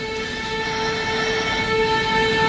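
A train in a film rumbles along steadily with a sustained, tonal horn or whistle sounding loud and continuous throughout.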